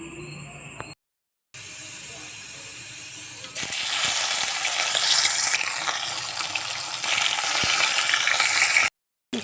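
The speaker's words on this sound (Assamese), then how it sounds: "আনফালে বহাই দিছোঁ মাংসৰ বাবে পিঁয়াজ ভাজি আছোঁ" Onions frying in a pan for broiler chicken curry in a home kitchen: a steady close sizzle that grows louder and brighter partway through, with brief breaks in between.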